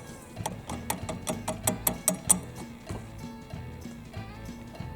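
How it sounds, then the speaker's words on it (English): 3/8 ratchet wrench backing out a bolt beside the fan on a Simplicity ZT1850 zero-turn mower, heard as a quick, fairly quiet series of rhythmic ratcheting clicks with a brief pause before more slower strokes. "So you gotta reach down in there with the ratchet wrench right by this fan and start taking that bolt out."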